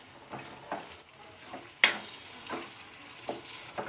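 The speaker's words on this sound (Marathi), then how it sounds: "तर ही वांगी आपल्याला 1 ते 2 मिनिट चांगलं तेलामध्ये छान परतून घ्यायची आहेत।" Brinjal pieces fry in oil in a pan, giving a soft, continuous sizzle broken by repeated stirring scrapes and one sharper clack, fairly quiet and with no voices.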